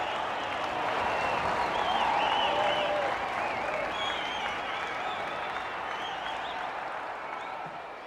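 Rugby league stadium crowd at a Raiders versus Eels match roaring and applauding after a goal, a broad, loud wash of cheering and clapping that slowly fades over several seconds, with a commentator's voice over it.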